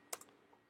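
A few quick, close computer keyboard key clicks, two sharp taps followed by a faint third, with silence after.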